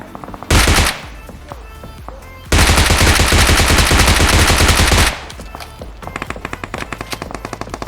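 Video game gunfire rings out loud and close, first as a short burst, then as a long sustained automatic volley, followed by sparser rapid shots with no talking.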